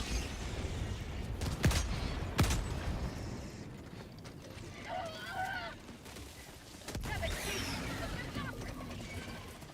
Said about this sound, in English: we're just calling an airstrike after airstrike